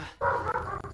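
A dog gives a single short bark-like yelp at close range, followed by a brief tail of sound.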